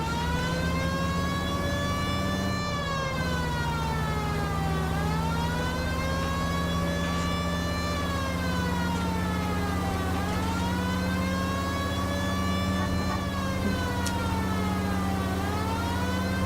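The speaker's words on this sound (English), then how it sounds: "This seems like a good time for the siren, don't you think?" A police car siren in the video game L.A. Noire wails in slow, steady rising and falling sweeps over a constant low engine drone, loud and continuous with no talking.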